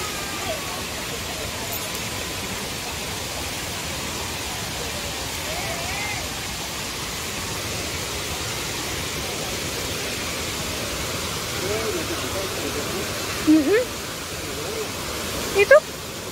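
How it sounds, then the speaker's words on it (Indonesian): Dlundung waterfall in Mojokerto, a large, forceful fall of clean water, gives a steady broadband roar that fills the whole stretch evenly, with a couple of brief louder knocks or voices near the end. "Air terjunnya gede deras, bersih airnya juga"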